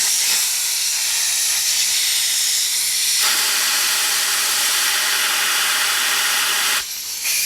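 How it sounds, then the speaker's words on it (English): Compressed air hisses steadily through Velvet Drive transmission oil lines, blowing out crud in a loud, continuous blast that shifts pitch partway through and cuts off briefly near the end. "you want to make sure that you blow any crud out of those lines"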